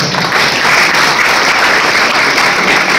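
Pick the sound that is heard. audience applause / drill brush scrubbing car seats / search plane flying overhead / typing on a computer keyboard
audience applause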